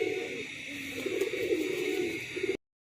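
Pigeons coo steadily and fairly near, low soft calls repeating without pause over a couple of seconds, likely colored ring-banded birds kept in a pigeon loft.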